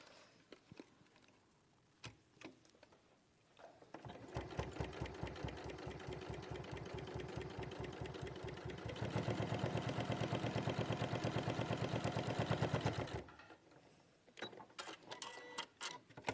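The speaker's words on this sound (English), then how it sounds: "I'm just going to top stitch along that edge." A sewing machine top stitches along a fabric edge, running in a steady fast mechanical chatter for about nine seconds, with lighter clicks and handling noises before and after the stitching.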